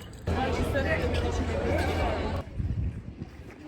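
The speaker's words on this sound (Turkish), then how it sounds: "Devamlı önden rüzgar esiyor." Wind buffets a microphone with a heavy, constant rumbling roar that cuts off abruptly, leaving people chattering outdoors.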